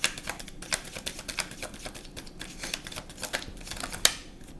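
Tarot cards shuffled by hand before drawing a single card, a run of crisp, rapid papery flicks and taps with irregular rhythm, close and fairly clear, one sharper snap near the end, no talking.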